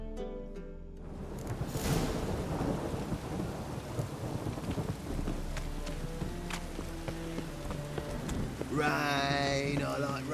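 Rain falls steadily in The Witcher 3 while a deep thunder roll rumbles early on, fading into a soft wash of rainfall with a faint musical tone toward the end.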